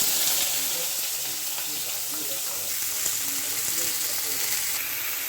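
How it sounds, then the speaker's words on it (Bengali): Washed vegetables dropped into hot oil with dried chilli, frying with a dense, steady sizzle and faint bubbling crackle, close and constant throughout with no voices. "এই যে এবার আমি সবজিগুলো দিয়ে দেব"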